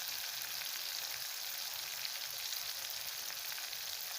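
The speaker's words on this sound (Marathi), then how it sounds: "तर चांगलं आपल्याला तेलामध्ये परतून घ्यायचं आहे." Finely chopped tomato fries in oil with a steady, hissing sizzle that holds the same level the whole time, and nothing else is heard over it.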